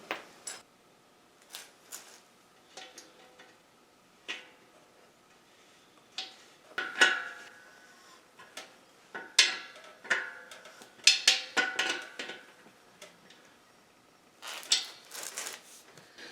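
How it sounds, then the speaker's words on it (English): Metal tap or threading tool being worked into an air compressor fitting port, giving scattered small ticking, scraping clicks in irregular bursts, close and fairly quiet with no talk. "I'm hoping this is cleaning the thread out right."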